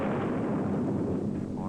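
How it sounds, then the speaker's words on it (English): A cannon roars in a deep, sustained rumbling blast that fills the short moment, loud and heavy with low boom and no sharp attack, no voices present. "capable of hearing the roar of a cannon"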